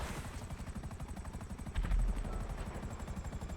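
A Savage attack helicopter in GTA 5 Online flies with a steady, rapid rotor thump under a constant engine whine, with a brief louder burst midway, all fairly quiet and with no speech.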